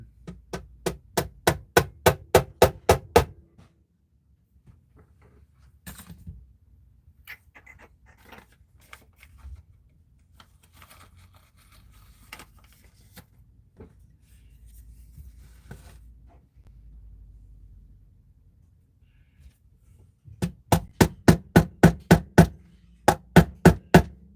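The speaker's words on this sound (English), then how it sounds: "so you hammer 2 nails in" Hammer driving nails into wood at a guitar workshop bench: two quick bursts of about seven sharp, evenly spaced strikes each, at the start and end, with quiet handling noise and faint movement in between.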